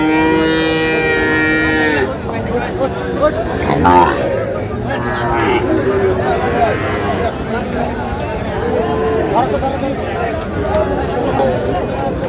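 Young bulls and heifers at a cattle market in Jamalpur, Bangladesh, give drawn-out moos amid loud crowd chatter, with a long low call near the start and further lowing under steady talk and hubbub.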